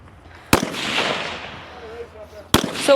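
Two sharp, loud rifle shots about two seconds apart on a shooting competition firing line, each a sudden crack followed by a fading echo and rustling in between.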